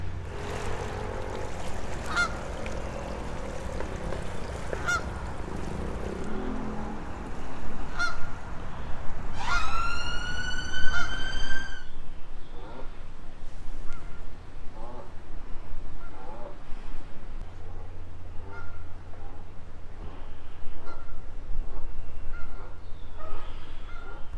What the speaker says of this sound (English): A family of geese there.